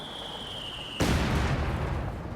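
Mortar shell explosion in Company of Heroes 2, a single heavy blast arriving after a descending whistle, loud and near, its rumbling roar lingering and slowly fading.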